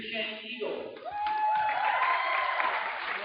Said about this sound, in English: You hear that crowd cheering for their Eagles.